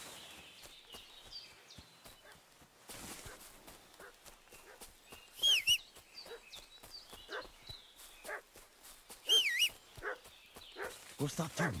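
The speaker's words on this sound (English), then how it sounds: "What's that dog making such a fuss about?" A dog barks in the medieval video game Kingdom Come: Deliverance II, two sharp yelping bursts some distance off amid hoofbeat-like clopping and ambient game sounds.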